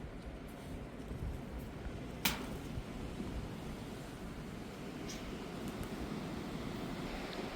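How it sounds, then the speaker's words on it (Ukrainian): Strong wind gusts outdoors in a southern garden after a frosty night, a steady roaring rumble of wind noise buffeting the microphone throughout, with one brief sharp click partway through and no voices. "У нас знову дує страшне."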